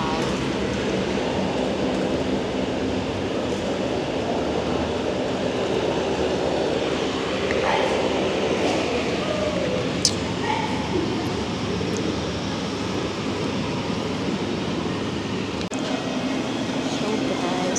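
Cebu Pacific airplane engines at an airport in Palawan: a steady, heavy roar running throughout, with brief clicks and muffled voices in the background.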